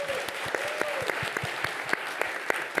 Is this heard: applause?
yes